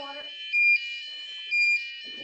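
A high electronic flood-level alarm tone from a cargo sensor system drones on with two louder pulses rising out of it; a voice is briefly heard at the start and end.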